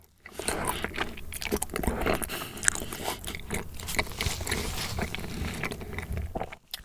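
Close, detailed chewing of tteok Korean rice cake, soft sticky bites and wet mastication in a steady irregular rhythm, with occasional crunchy clicks and no talk.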